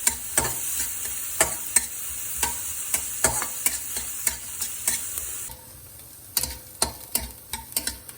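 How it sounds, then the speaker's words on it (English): Onions sizzle in a hot pan for a spinach moong dal dosa masala. A spoon or spatula stirs them in sharp repeated scrapes and clacks, and the frying hiss drops partway through. Nobody speaks. "I'm going to tip in onions, saute them for 2 minutes."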